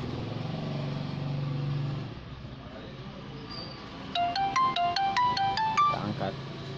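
A phone ringtone for an incoming fake video call: a quick run of bright rising electronic chimes repeating in a rhythmic pattern, coming after a stretch of low rumbling background.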